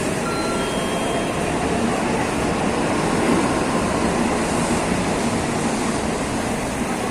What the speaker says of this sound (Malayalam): വേറൊരു ട്രെയിനാണ്, ബുള്ളറ്റ് ട്രെയിൻ.